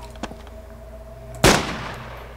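A single loud, close gunshot in DayZ, fired from a sniper rifle, with a sharp crack followed by a decaying echo tail, preceded by a faint click.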